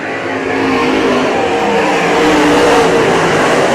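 Modified race cars roar around the Merritt Speedway oval during a heat race, a loud continuous wall of engine noise with a slight swell as the pack passes, nearby and unbroken for the whole stretch.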